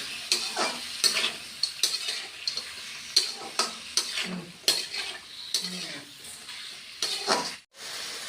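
Mutton sautéing with turmeric in a pan: a steady sizzle of frying, broken by repeated scraping and clinking stirs of a spoon against metal, close and fairly loud.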